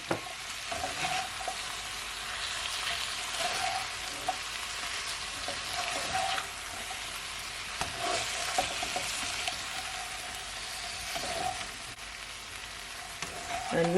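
Tomato and sweet pepper fry in a pan for a cabbage stir fry, giving a steady loud sizzle throughout with occasional soft stirring scrapes and no speech.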